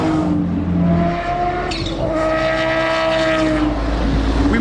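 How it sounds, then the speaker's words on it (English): A Gordon Murray supercar driving past behind a Porsche at an outdoor car show, loud and close, with engine notes rising and falling as the cars go by. "And here comes the Gordon Murray car behind this Porsche."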